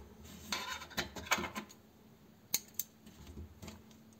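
Small scissors cut yarn during a crochet project, making a few light, close snips and metallic clicks against a quiet background.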